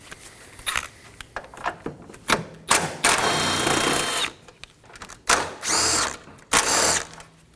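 Bursts of a power ratchet or tool spin out 10mm bolts from the AC condenser of a Dodge Durango, several short whirring runs separated by clicks, clanks and quiet pauses.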